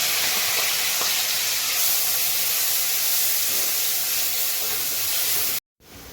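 Chopped onion hits hot oil in an iron kadhai for a spicy prawn masala, giving a steady loud sizzling hiss that runs unbroken before cutting off abruptly near the end.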